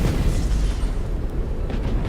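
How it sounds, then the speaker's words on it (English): A Nova Cannon shot in the space battle game Battlefleet Gothic Armada, fought against Orks: a loud, sustained low boom with a rumbling broadband roar that holds steady for about two seconds, with no talk over it. "I'm going to get a Nova Cannon shot off there."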